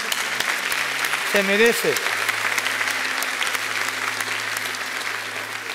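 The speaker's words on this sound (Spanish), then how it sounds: "Dale un aplauso al Señor." A church congregation claps in a burst of applause that rises and holds steady, with a voice speaking briefly over the clapping.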